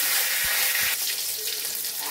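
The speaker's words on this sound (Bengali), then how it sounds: "তো এবার ফোড়ন দেই হচ্ছে, এদিকে দেবো তেজপাতা" Bay leaf and whole spices dropped into hot oil after frying potatoes, giving a bright, hissing sizzle with two soft thuds early on, then a sustained crackle that settles slightly.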